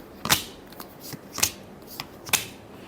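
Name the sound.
shuffling tarot cards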